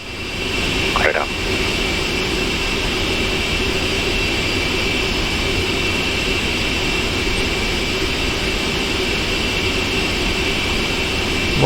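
Jet airliner engines in a Prepar3D flight simulator cockpit, a loud steady turbine whine and broadband roar holding throughout, with a brief faint tonal sweep near the start.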